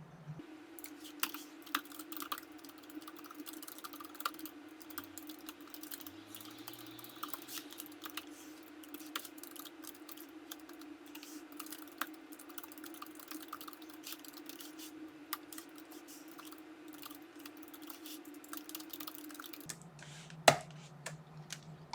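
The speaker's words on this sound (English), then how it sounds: "then I'm going to type in the actual program" Steady computer-keyboard typing while a beginner arrays-and-loops program is entered, a long run of quick, light, irregular keystrokes over a low constant hum, ending with a couple of sharper clicks.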